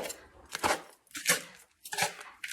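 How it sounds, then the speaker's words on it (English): Garden soil being stirred into worm compost bedding, giving several bursts of crunchy, scraping rustles with short pauses between them, close up and with no one speaking. "I add a little bit of my garden soil in there. And I'm gonna mix that up."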